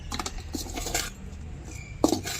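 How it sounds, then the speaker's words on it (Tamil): Tamarind is dry-roasted in a pan for tamarind rice powder, with light metallic clinks and scrapes of a utensil against the pan, close and moderately loud. "அதுக்கு புளி வறுத்துக்கிட்டு இருக்கிறேன்"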